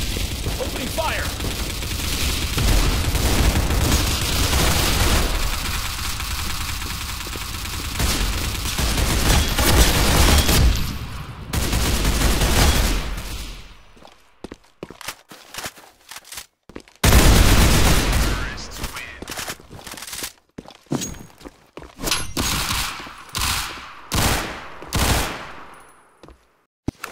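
Gunfire in Roblox Counter Blox (CBRO): sustained rapid bursts of automatic weapon fire in a continuous barrage, then sharper isolated shots with gaps, loud and close in a competitive shooter match.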